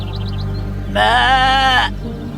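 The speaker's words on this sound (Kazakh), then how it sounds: "мынауың маңырап жатыр ғой" A single sheep bleats loudly for about a second, a wavering nasal cry over a low steady hum.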